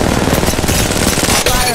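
Loud, continuous automatic gunfire in the battle royale shooter Apex Legends, a fast unbroken stream of close shots that hammers on for nearly two seconds.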